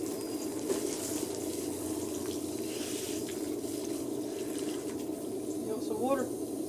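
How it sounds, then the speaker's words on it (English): Water from a hose pipe sprays onto a car tire, a steady rushing hiss of running water that continues throughout with faint background voice or noise underneath. "So I'm going to get the hose pipe and wet that tire."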